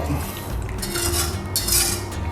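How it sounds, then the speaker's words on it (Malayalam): Utensils clink and scrape against a pan and bowl as a homemade sauce for grilled chicken is poured out, with a brief burst of metallic clatter over faint background hiss. "നമ്മൾ ഉണ്ടാക്കിയ സോസ് നമുക്കൊരു ബോളിലേക്ക് ഒഴിച്ചു വെക്കാം"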